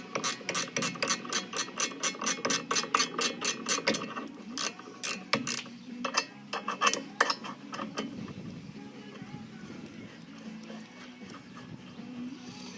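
A ratchet clicks in quick rhythmic bursts while loosening bolts on a Jeep Cherokee XJ brake caliper, close up, then slows into scattered clicks and handling noises.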